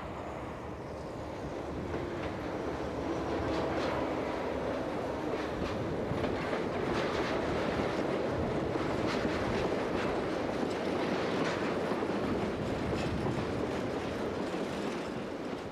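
Trains move through a railway marshalling yard in Belgium with separate arrival and departure yards. A continuous broad rumble and rolling noise carries steady, moderately distant, with faint clanks and no voices.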